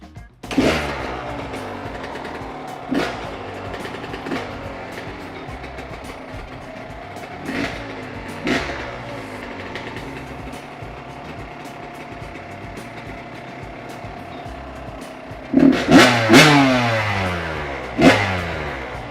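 A small engine with a freshly cleaned carburetor gives several sharp starting pulls, then catches and runs with a steady mid-pitched drone before revving loudly near the end.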